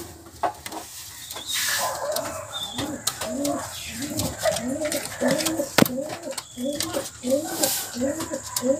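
Roller pigeons coo in a repeated rolling rhythm, close and moderately loud, over other birdsong and scattered clicks, with a voice talking faintly underneath.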